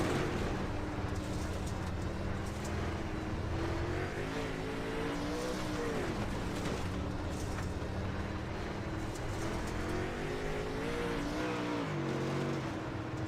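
Race car in the iRacing simulator, engine droning loud and steady with revs climbing and dropping at several gear shifts, close on board.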